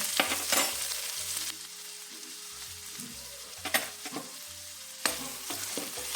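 Onions sizzle in hot oil with cumin, dried red chillies and curry leaves for an aubergine gravy, a steady close frying hiss broken by a few sharp stirring scrapes and spatters.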